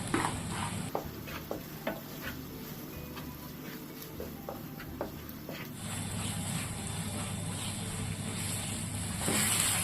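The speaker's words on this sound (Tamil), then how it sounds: "மசாலா பேஸ்ட்டு நல்லா எண்ணெயில் வதங்கி எண்ணெய் தனியாக பிரிஞ்சு வரணும் அது வரைக்கும் நம்ம எண்ணெயில் வதக்கிக்கலாம்" Ground masala paste for a Kerala-style sardine fish curry sautéing in oil, a soft steady sizzle with small ticks and occasional stirring taps, quiet and close without talk.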